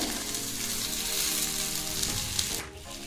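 Paneer tikka pieces sizzle on a hot tawa, a steady close hiss that stays loud throughout, with a small clink near the end.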